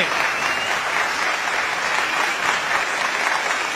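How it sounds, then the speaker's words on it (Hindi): An audience at a poetry gathering claps in a dense, sustained round of applause, loud and even for the whole stretch, with a faint voice underneath. "देखिए तालियां कैसे बजती, देखिए।"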